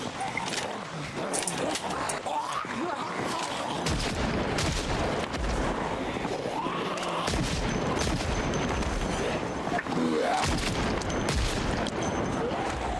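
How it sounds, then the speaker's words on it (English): Gunshots fired in the video game Project Zomboid to draw zombies away, sharp repeated bangs amid a busy wash of game noise, with a voice talking over much of it. "So I'm shooting to pull them away from where we want to fall back to"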